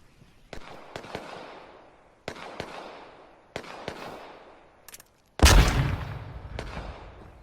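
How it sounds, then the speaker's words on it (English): Flashbang grenades in the H1Z1 video game, a series of sharp thudding pops with decaying tails spaced about a second apart, then one much louder burst with a broad ringing roar, no voices. "The flashbang."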